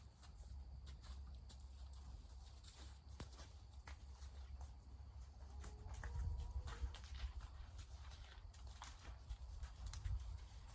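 A horse walks alongside a handler, its hooves clip-clopping in a steady, even rhythm at moderate distance, with faint outdoor ambience and occasional soft thuds.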